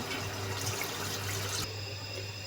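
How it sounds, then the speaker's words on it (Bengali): Water poured into a pot of browned beef curry with potatoes to make gravy, a steady splashing pour that runs for about a second and a half, then changes to a lighter, thinner trickle for the rest. "আমার কিন্তু মাংসটা কষানো হয়ে গেছে। দিয়ে দিব ঝোলের জন্য পানি।"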